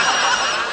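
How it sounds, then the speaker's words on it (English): Telephone ringing, a bright continuous electronic ring that fills the short moment at steady loudness, with no talking over it. "ever since breakfast my phone's been ringing off the hook"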